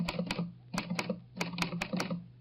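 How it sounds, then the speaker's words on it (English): Keys strike on an Underwood manual typewriter in short, crisp clusters of sharp clacks with brief pauses between, close and clear, with no voices. "I'll type it up for you right now on my Underwood typewriter."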